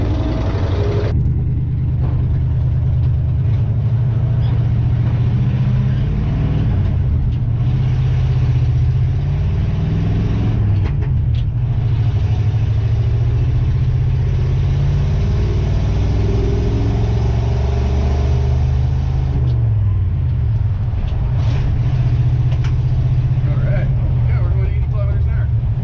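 An old pickup truck drives along on a test drive, its mid-range engine droning steadily from inside the cab with some gear and road rumble, while a person talks over it.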